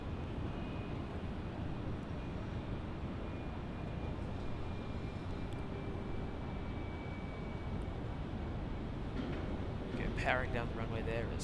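Qantas flight QF 706, an airliner at Brisbane Airport, powers down the runway on its takeoff roll with a steady, broad engine roar that holds at an even level throughout and swells slightly near the end.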